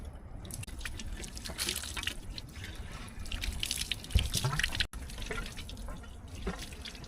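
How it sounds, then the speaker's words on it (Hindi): Water running from a tap while pears are washed by hand, a steady close splashing stream with irregular spatters and drips, no talking. "तो इसे मैं धो के अभी देती हूँ।"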